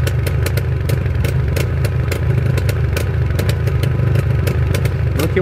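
A motorcycle engine idles loudly and steadily nearby, its exhaust thumping in a low rumble with sharp, regular clattering pulses; the bike has Kevlar gaskets.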